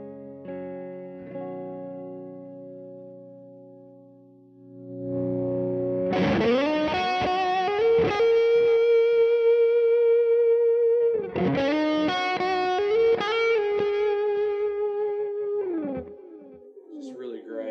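Electric guitar running through a pedal board with a Catapult effect: a quiet sustained chord fades, then loud distorted lead lines with bends and held notes ring out in two phrases, no talking heard.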